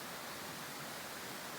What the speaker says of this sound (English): This is the Manitou River.